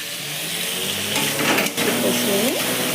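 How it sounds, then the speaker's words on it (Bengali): Spices, salt and sugar sizzle and sauté in a pan for a pointed gourd curry, a steady close frying hiss with light stirring, and a brief voice partway through. "নুন, মিষ্টি সব দিয়ে আমি এটা কষাচ্ছি।"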